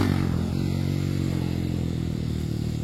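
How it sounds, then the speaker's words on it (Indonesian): A modified special-engine motorcycle runs at a steady, close, loud drone as the throttle is eased open for a slow wheelie, its low growl holding even throughout. "Ini hati-hati cara membuka gasnya, kita harus bisa sedikit lebih smooth."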